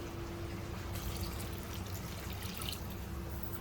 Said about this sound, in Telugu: వాటర్ పోసేసుకుందాం అప్పుడు